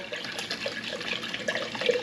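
Alkaline ionized water, 9.5 pH from a Kangen machine, pours into a sprouting jar, a close steady splashing trickle with no voices.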